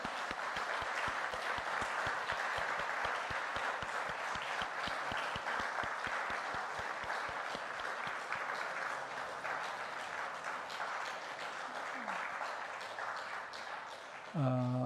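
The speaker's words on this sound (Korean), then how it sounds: "우리 박수 한번 격려해 주겠습니다" Sustained congregational applause fills a church sanctuary during a Sunday morning worship service, a dense, steady crowd clapping that holds for many seconds before tapering off near the end.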